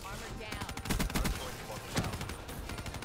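Rapid bursts of gunfire in a Black Ops 3 multiplayer match, clusters of sharp shots around the one- and two-second marks over steady game noise, with a player's voice talking throughout.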